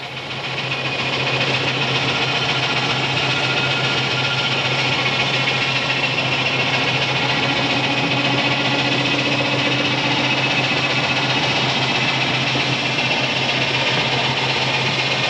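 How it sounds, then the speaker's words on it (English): An Aveling 6-horsepower steam road locomotive hauls a load on a very early trailer, producing a loud, continuous mechanical drone that holds steady throughout with no voices. "Here's an Aveling road locomotive, a 6-horse engine, having a go at hauling a load around on a very early trailer."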